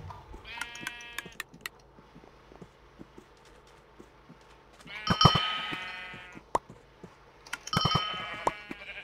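Sheep in the Minecraft video game bleat in several short, bright, wavering cries, one early, one in the middle and one near the end, set against a quiet background that has scattered clicks and taps.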